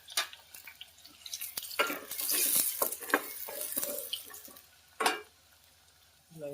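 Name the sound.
onions frying in a pan for palak paneer curry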